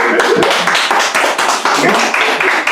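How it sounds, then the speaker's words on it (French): An audience claps briefly after a request for applause, a quick burst of close, bright hand claps with voices mixed in, fairly loud and steady. "On peut les applaudir un peu?"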